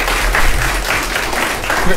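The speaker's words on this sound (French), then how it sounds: "Vous pouvez, s'il vous plaît, les applaudir." Audience applause for a student robotics team at an international competition, a dense, continuous wash of clapping with a voice speaking over it.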